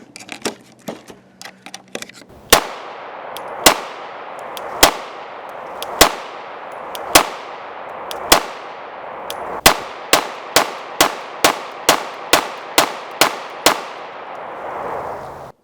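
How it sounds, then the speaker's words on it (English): A Shadow Systems DR920L long-slide pistol fires 124 grain XTP hollow point rounds, about fifteen sharp, loud shots ringing out, spaced slowly at first and then in a quick, steady string, each leaving a brief echo. "We're going to shoot some through this pistol."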